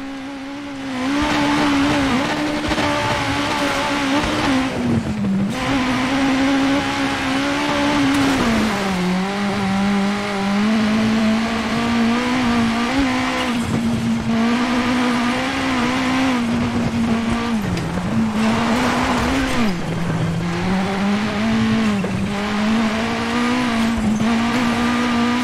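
Rally car in the WRC 9 video game driven hard, with a loud continuous engine whine that rises and dips through gear changes and braking, alone with no talk.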